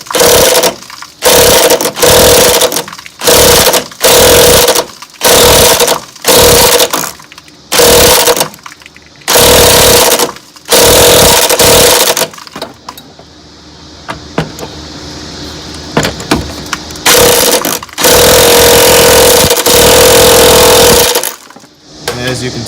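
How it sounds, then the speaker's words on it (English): Pneumatic impact gun hammering at a stubborn 19mm rear shock bolt on a 1978 VW Super Beetle, loud and close, firing in about a dozen short rattling bursts followed by one long sustained run and a final burst. "this is a 19mm bolt. I'm just going to hit it with an impact gun."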